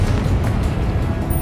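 A Confringo spell explosion in the video game Hogwarts Legacy, a short loud low-pitched rumbling boom that fills the whole moment.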